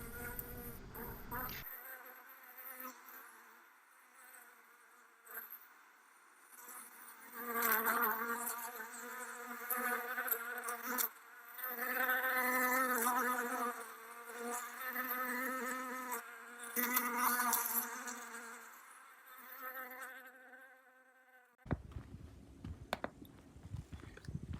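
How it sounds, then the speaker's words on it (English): Bees buzz continuously close by around a flowering plant, a droning hum that swells and fades as they move around, with outdoor background noise on the Parry Grove Trail, Torrey Pines State Natural Reserve. "If we listen carefully, we can hear them buzzing around."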